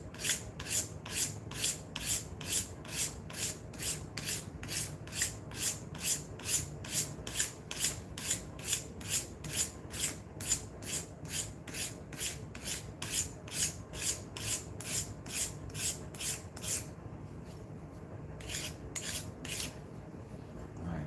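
Metal is worked with 120-grit abrasive in long, regular rasping strokes, roughly two per second, close and steady, with a short pause near the end before a few more strokes.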